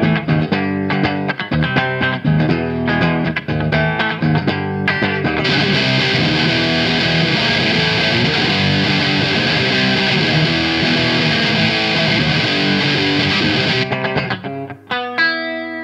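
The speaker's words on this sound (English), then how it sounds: "I'll play the regular distortion through the amplifiers to show you how an amp can encapsulate it without pedals" A Fender JagStang electric guitar plays through an amplifier's own distortion without pedals, loud chords and riffs swelling into a sustained wall of saturated noise before stopping near the end.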